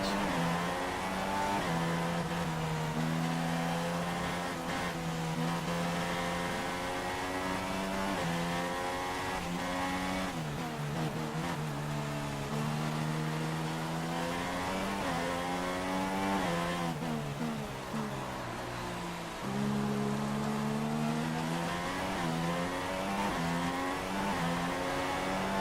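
A Formula 1 car engine races in the video game F1 2016, running on intermediate tyres in light rain; a loud, continuous high-revving whine climbs and drops through gear changes for the whole stretch, with no talk over it.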